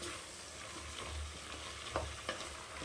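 Mixed vegetables for vegetable rice sautéing in a pan, a steady soft sizzle with occasional scraping stirs, close and fairly quiet, no voices.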